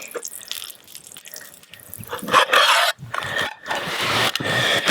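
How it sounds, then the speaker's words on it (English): Marsh samphire being rinsed in a basin of water, with sloshing, rubbing and splashing that builds from soft swishes into louder bursts of washing, close up and without talk. "Give it another rinse."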